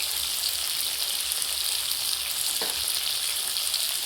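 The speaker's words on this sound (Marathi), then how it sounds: "आता आपण ह्या टोमॅटोला चांगलं शिजवून घेणार आहोत." Chopped tomatoes seasoned with turmeric and salt sizzle and fry steadily in a pan, a continuous close crackling hiss with no talking.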